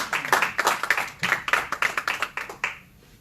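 A church congregation at a Sunday service claps in a quick, uneven burst of close, sharp handclaps lasting under three seconds before fading to quiet.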